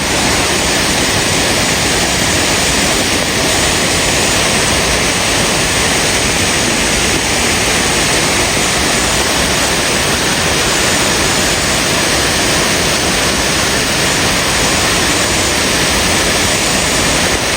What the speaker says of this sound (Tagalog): So guys, bumaba na tayo dito sa waterfalls mismo.